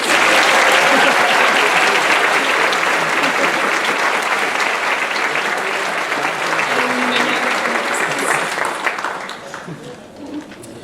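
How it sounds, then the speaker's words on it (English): A dense, sustained round of applause fills the room at a university graduation celebration, loud and continuous from a large crowd before thinning slightly at the end, with faint voices underneath. "let's give one more round of applause for these balloons"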